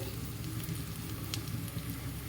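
Carrot, capsicum and spring onions fry in a pan during cauliflower paneer fried rice cooking, giving a steady, even sizzle with a soft crackling texture and no talking throughout.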